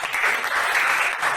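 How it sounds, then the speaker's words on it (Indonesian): A classroom audience applauds after a group presentation. Many hands clap in a loud, dense burst that lasts just over a second with no pauses. "Tepuk tangan ulang sekali lagi."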